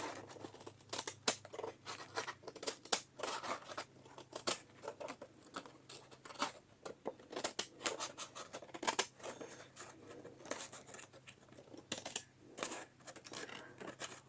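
Scissors cutting faux leather close up, a faint irregular run of snips and scratchy rasps with short pauses, alone with no voices.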